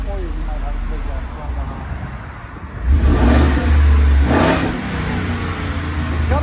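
A 7.3L gas V8 truck engine with its resonator deleted idles, then revs loudly in short bursts and settles back, close and deep-toned.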